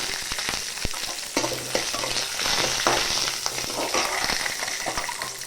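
Urad dal and dried red chillies sizzling steadily in hot oil in a pan over a low flame, with a dense continuous crackle and occasional spoon stirs, close and alone.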